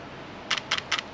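Three quick shutter clicks, each a crisp double snap, evenly spaced over quiet background hiss.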